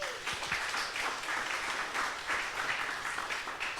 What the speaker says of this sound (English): Can we give a round of applause for Commute real quick?